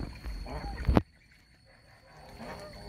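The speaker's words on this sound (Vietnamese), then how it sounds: "Ngỗng đầu sư tử Thái Lan thuần chủng." A purebred Thai lion-head goose gives a loud, harsh honk up close that cuts off sharply, followed by quieter farmyard background with faint calls.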